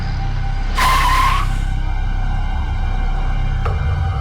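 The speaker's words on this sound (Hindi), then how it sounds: "हमने कहा ना गाड़ी रोको।" A car brakes to a stop on a road, with a short loud tire squeal over a steady engine rumble, then the engine idles on.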